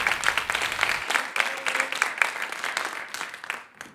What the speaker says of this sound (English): Give a big round of applause for Avi.